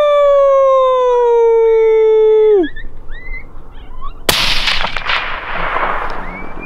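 A rifle shot cracks once, sharp and loud, during a red fox hunt in central Texas, following a long falling whistle-like call and leaving a rough echoing tail.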